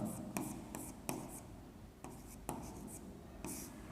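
Chalk or marker taps and scrapes across a board during a geometry class, quiet irregular strokes with sharp clicks spaced about half a second apart, under faint whispery background.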